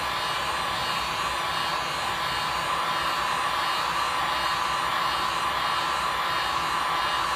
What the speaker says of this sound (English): Just kind of move the heat gun around and let the heat dissipate around the board here.